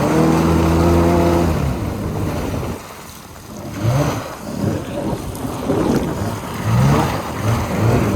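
A 2003 Yamaha GP800R jet ski, freshly rebuilt after a sheared driveline and pump repair, runs on a lake with a steady buzzing engine drone. The drone falls away into loud splashing and rushing water that surges in waves close by.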